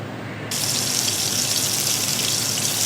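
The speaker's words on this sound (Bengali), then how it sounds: "এবারে আমি ভাজতে শুরু করলাম।" Boondi batter drops into hot oil and sets off a loud, steady, hissing sizzle that starts abruptly and holds without a break.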